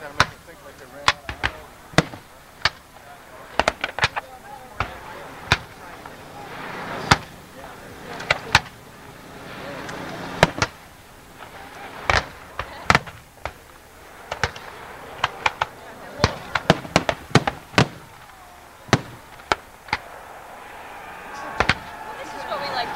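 Cannon and artillery fire at a Gettysburg Civil War reenactment, sharp booming reports scattered irregularly at varying distances, some close and loud, others faint, with people talking in between.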